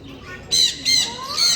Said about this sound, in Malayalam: ഇതും ലവ് ബേഡാണ് ആഫ്രിക്കൻ ലവ് ബേഡ്